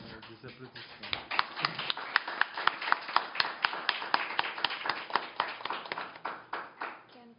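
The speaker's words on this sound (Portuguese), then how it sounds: "pedir a eles também, depois, uma salva de palmas aqui para os nossos convidados" An audience at an international dialogue event gives a steady round of applause for the guests, with rapid dense claps that build and then taper over several seconds.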